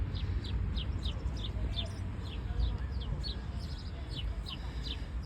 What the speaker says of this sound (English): I heard some noisy birds, so I think there's some parrots here